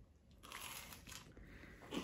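Quiet crunching bites into a pizza crust topped with goat cheese come close and soft, several short crackly crunches over about two seconds.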